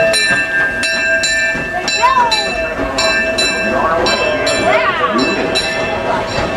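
A Disneyland Railroad station scene at Main Street, USA, with rhythmic bell-like chimes, train rumble and hiss, and a crowd of voices chattering in the background.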